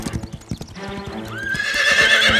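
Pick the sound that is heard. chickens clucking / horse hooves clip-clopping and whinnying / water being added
horse hooves clip-clopping and whinnying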